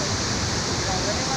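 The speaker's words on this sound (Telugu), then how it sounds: "చాలా అద్భుతమైన వాటర్ ఫాల్స్ ఇవి." Roaring waterfall at Bogata falls in Telangana, a steady, dense wash of falling water that fills the whole stretch without pause, close and loud.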